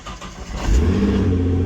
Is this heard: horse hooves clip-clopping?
no